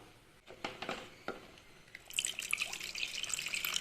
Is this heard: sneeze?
no